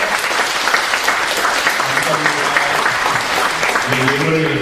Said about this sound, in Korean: 우리 축복하는 박수 한번 보내드릴게요